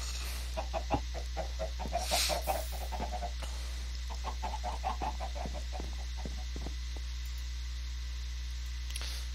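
Chickens in the Minecraft Skyblock video game give a run of short clucking calls near and mid-level over a steady low hum, with one brighter squawk early on and scattered clicks.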